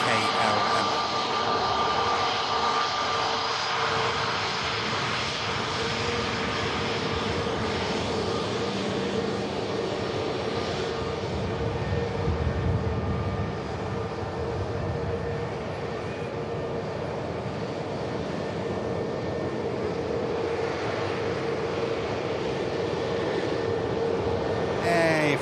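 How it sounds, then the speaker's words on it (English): A KLM Embraer jet arrives at an airport, its engine roar sustained and broad across the whole stretch, with a voice talking over it at times. "the next aircraft in is an Embraer of KLM"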